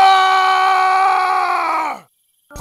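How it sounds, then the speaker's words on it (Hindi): A loud, sustained scream rings out for about two seconds, then cuts off sharply into silence before another brief sound begins. "मैंने एक जोरों की चीख सुनी"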